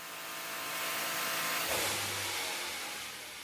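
A Bugatti engine running on a dynamometer test bench in the manufacturing plant, a steady loud broadband roar with a low mechanical hum that swells slightly midway, heard alone without speech.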